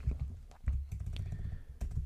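A computer keyboard being typed on quickly and close up, with a dense run of clattering keystrokes and a few heavier thumps.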